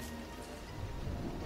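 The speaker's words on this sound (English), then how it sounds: "Nothing like a nice downpour" Steady rain pours down in the video game Don't Starve, a soft even hiss of dense falling drops that stays level throughout.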